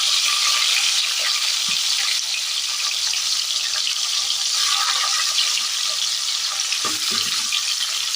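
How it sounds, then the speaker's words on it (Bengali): Chicken pieces fry in hot oil seasoned with whole cumin, giving a steady, close sizzle and crackle throughout, with a few louder spits and stirring sounds near the end and no voices. "এবার আমি চিকেনের পিসগুলোর মধ্যে ফ্রাই করবো।"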